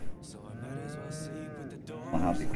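Cattle in Farming Simulator 22 low with a long, drawn-out moo of rising and falling pitch, fairly near, followed by rustling game sounds.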